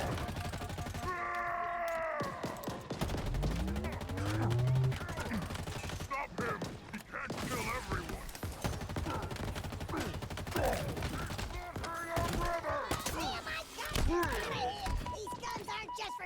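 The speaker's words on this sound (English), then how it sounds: "Sometimes the machine gun's just really fun." Machine gun fire in the Halo Infinite shooter game, rapid dense bursts of shots mixed with explosions, groans and game effects, under a busy layered battle soundtrack with voices.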